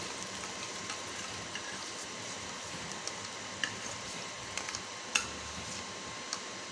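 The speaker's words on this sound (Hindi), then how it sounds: "अब इसमें हम ये जो ग्राइंड किए हुए प्याज है ये डालेंगे और इन्हें लाइट ब्राउन करेंगे" Ground onions frying in hot ghee, a soft, steady sizzle with faint crackles and a few sharp ticks from stirring, quiet and close, with no talking.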